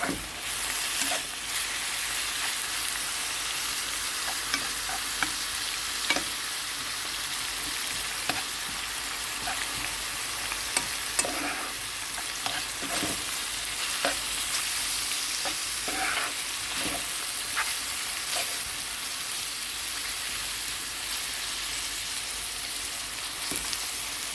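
Vegetables for borscht stew and sizzle steadily in a frying pan, a constant bright crackle with occasional scraping stirs, close and fairly loud, no voices.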